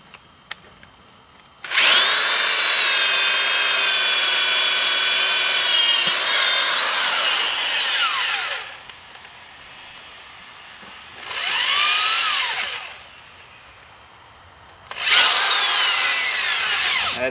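A power drill with a 1/2 inch bit bores through wood in three runs: one long steady whine of several seconds, then two shorter bursts separated by pauses. The sound is close and loud, with nobody talking.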